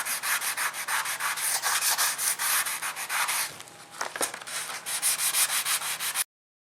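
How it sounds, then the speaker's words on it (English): Close, rhythmic strokes of sandpaper rub back and forth along a wooden Mosin rifle stock, a steady series of scratchy passes with a brief pause midway. "So I've just lightly sanded it, smoothed it out."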